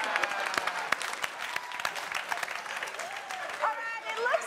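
A studio audience on a talk show gives a round of applause, sharp scattered claps rising and falling, with voices calling out near the end.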